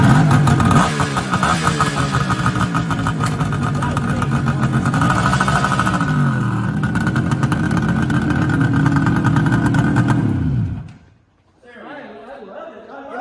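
A 1976 Suzuki GT 550 two-stroke motorcycle engine runs steadily up close for about ten seconds with voices talking over it, then cuts off abruptly, leaving a brief quiet before faint chatter resumes.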